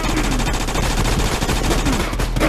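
Rapid gunfire in the VR shooter Hit Contracts: loud, close bursts of automatic fire rattling continuously with hardly a break, dense and punchy throughout.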